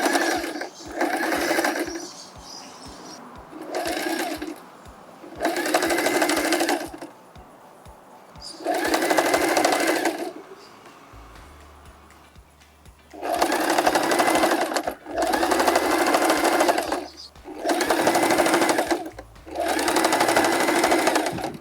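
A sewing machine running straight stitches down the sides of fabric handles, heard in repeated loud bursts of rapid mechanical whirring separated by short pauses, with a faint low hum in some of the gaps.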